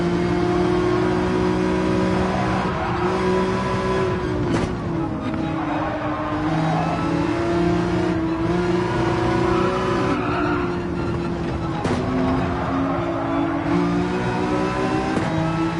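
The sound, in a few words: race car engine accelerating in Gran Turismo 7 video game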